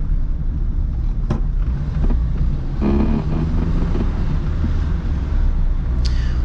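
A 1980s-era VW Polo Mk2 engine under hard acceleration, a steady, loud low rumble with a vibrating drone heard from inside the car, no talking.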